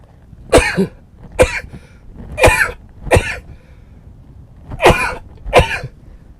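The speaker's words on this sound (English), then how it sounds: "Yeah, that is a sneeze. I know it sounds like a cough" Six short, explosive allergy sneezes that sound like coughs come close and loud in uneven bursts, with quiet gaps between.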